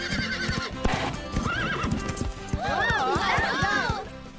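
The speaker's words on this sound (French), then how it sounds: "Un petit galop est donc idéal." A horse in the Horseland video game gallops with steady clip-clop hoofbeats, then gives a loud, wavering neigh near the end, all set against a busy background of game music or sound.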